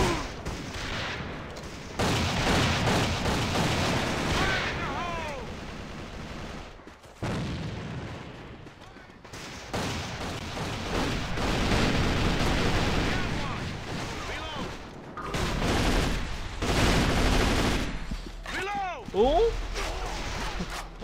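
Gunfire and a grenade blast in the shooter game A.V.A, bursts of rapid shots and booms coming in several loud waves separated by short lulls, with a player talking over them.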